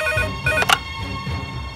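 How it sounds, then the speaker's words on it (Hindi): A telephone rings in a police station office, a bright electronic ringtone with a couple of short repeated bursts rising above a low room murmur. "चौबे जी सर फोन उठावा।"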